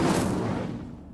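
An Incendio fire spell cast in Hogwarts Legacy bursts loudly with a single fiery blast that decays over about a second, with no talking.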